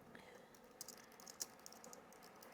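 Rapid clicking of typing on a computer keyboard while writing a note in a notes app, a quiet irregular patter of keystrokes with a few sharper taps, nearby and alone without talk.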